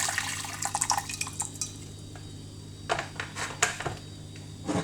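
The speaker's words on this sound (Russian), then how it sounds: "Горячую кипяченую воду вскипятили, наливаем в кастрюльку." Hot boiled water is poured into a small saucepan in a kitchen, making short splashing trickles and drips in quiet bursts, with faint clinks of the pan.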